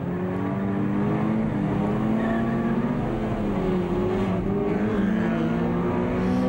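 Several race cars in a Class B circuit race pulling away, engines roaring loud and continuous with rising and falling revs as they accelerate, no voices.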